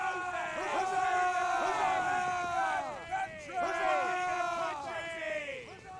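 A group of players in the Roblox Waterloo battle game raise a loud, sustained cheer of overlapping whooping voices, breaking briefly and then surging again.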